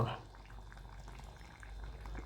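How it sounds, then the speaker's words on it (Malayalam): Soft bubbling of a simmering fish curry with a brief pour of coconut oil at the start, steady and fairly quiet, no talking. "ഇത്തിരി വെളിച്ചെണ്ണയും കൂടി ഒഴിക്കുക"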